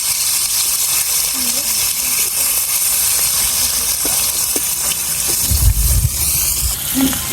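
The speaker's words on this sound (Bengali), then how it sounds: "জিরা দিয়ে দিলাম এখন ভাজি জন্য মাছ দিয়ে দিলাম" Fish sizzles in a pan with cumin, a steady broadband hiss of frying oil running throughout with faint pops, growing slightly louder toward the end.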